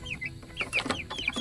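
Chickens being raised on a small integrated farm in the province cluck and squawk close by in quick, overlapping bursts, with no talking.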